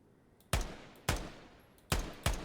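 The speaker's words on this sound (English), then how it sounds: "Felt like those were some pretty decent shots" Four sharp, loud sniper rifle shots in Ground Branch, unevenly spaced, each one a hard crack with a decaying tail ringing out after it.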